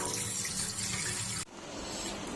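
Water from chopped vegetables, squeezed out by hand while making a mixed potato, eggplant and okra dish, runs in a close, steady trickle and then stops abruptly partway through. No one speaks.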